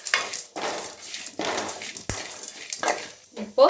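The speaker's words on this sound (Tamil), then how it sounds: "ஒரு நிமிஷம் இதில் வதக்கிப்போம்." Masala with a roasted asafoetida lump is sautéed in a kadai, rhythmic scraping and stirring strokes with faint sizzle, a sharp clink midway and a knock at the end.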